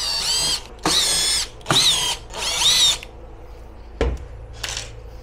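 Power drill unscrewing screws from the plastic cover of a 48V 100Ah wall-mount LiFePO4 lithium battery, four close whirring bursts of about half a second each, followed by a few clicks and a short final spin.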